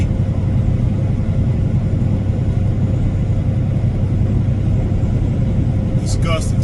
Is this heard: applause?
no